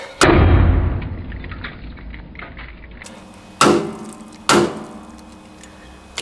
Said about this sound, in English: Let me give it another smack.